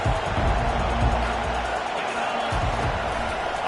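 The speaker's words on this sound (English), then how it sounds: "Listen to this crowd just shaking the girders of this place" Stadium crowd at a football game, a loud sustained roar filling the space as fans try to help the defense, steady throughout with slight swells and no distinct pauses.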